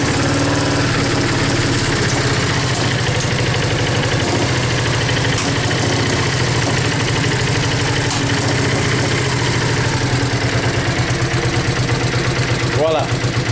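Yamaha Virago XV 535 motorcycle engine, previously without spark, running at a steady loud idle throughout, with a rough rhythmic low thrum and a brief voice near the end.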